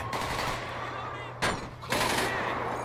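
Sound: gunfire in GTA 5 video game

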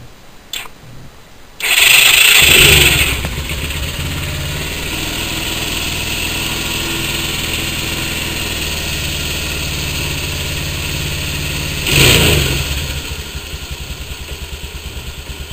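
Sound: Honda 4-Trax 200 ATV engine starting and idling

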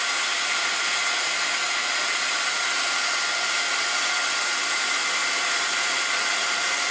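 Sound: heat tool melting embossing powder

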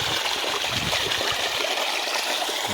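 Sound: water gushing from farm well pump

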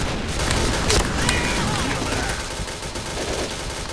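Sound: rapid gunfire from an M1014 shotgun in a video game

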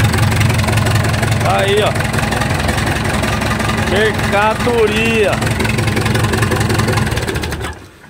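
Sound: backhoe excavator engine running with internal noise

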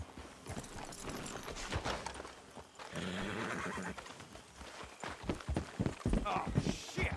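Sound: horses' hooves clip-clopping

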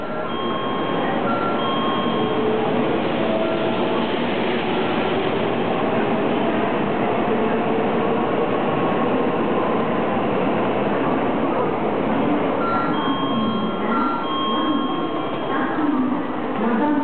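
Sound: Shinkansen Nozomi train arriving at station platform

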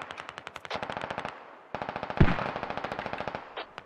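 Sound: gunfire in the video game Squad

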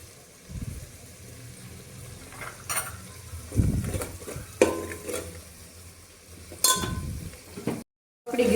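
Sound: garlic sizzling as it fries

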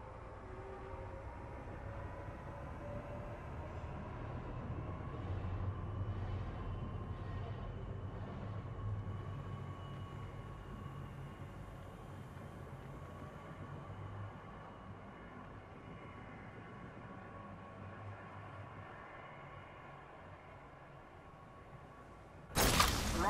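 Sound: moving train in Apex Legends video game

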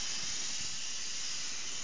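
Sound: spraying activator aerosol for carbon hydrographic print

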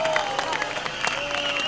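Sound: audience applause at a concert

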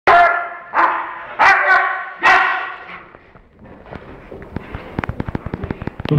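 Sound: police dog attacking on command

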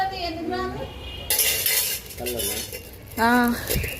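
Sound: metal spoons and cutlery clinking

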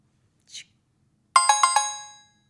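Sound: phone notification alert chimes

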